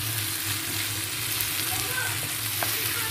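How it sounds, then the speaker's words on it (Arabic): A meat filling stirred with soy sauce in a hot pan gives a steady, close sizzle with light scraping under it, running continuously. "غنضيف واحد معلقه ديال لاصوص صوجا ونحرك مع ناصي"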